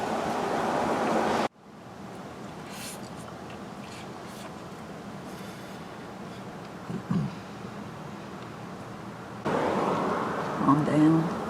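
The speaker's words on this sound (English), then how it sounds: "The creek is bank full." A flooded creek runs bank full after heavy rain, a steady broadband rush of water heard nearby that holds constant throughout, with a brief louder stretch at the start and end and small knocks in the middle.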